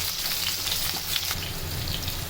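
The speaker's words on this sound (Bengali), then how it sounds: "তেল গরম হলে দিয়ে দিচ্ছি কেটে রাখা পেঁয়াজ কুচি" Chopped onions hitting about a third of a cup of hot oil for a potato and bele fish curry, a dense continuous crackling sizzle that stays loud and even throughout, close up with no voices.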